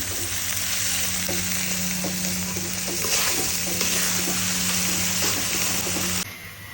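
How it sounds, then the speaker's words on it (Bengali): Vegetables, including bitter gourd, frying in a hot pan give a loud, dense, continuous sizzle with stirring scrapes throughout, cut off abruptly near the end, with no voices. "ভালো মতন আমি এগুলোকে ভাজবো"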